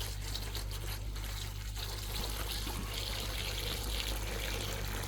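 Fresh water pours and trickles steadily into a container for animals, a continuous close splashing stream with no talking over it.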